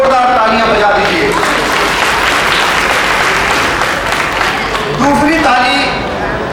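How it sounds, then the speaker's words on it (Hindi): Loud, sustained applause from parents at a school function, a thick wall of clapping filling the hall throughout, with a voice faintly mixed in near the end. "आप लोग अपने बच्चों के लिए एक बार जोरदार तालियां बजा दीजिए।"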